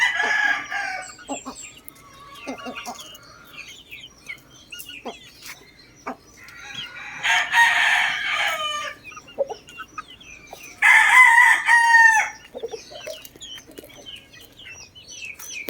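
Backyard cockerels in Quezon City crow loudly and close by, three drawn-out crows spread across the stretch, with softer clucking and chatter from the flock between them.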